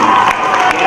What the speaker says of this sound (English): please applause while they come in